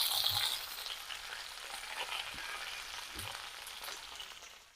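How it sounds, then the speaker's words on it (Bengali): Pangas fish paturi wrapped in bottle gourd leaves frying gently in oil in a pan: a soft, steady sizzle with faint crackles and occasional stirring scrapes, fairly quiet and close. "এভাবে আস্তে আস্তে করে ভেজে নিতে হবে।"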